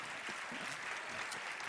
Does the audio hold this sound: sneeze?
no